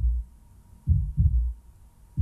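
A heartbeat sound effect with deep, muffled low thumps, a single beat followed by a double lub-dub pair and then another beat starting, slow and steady over a faint hum.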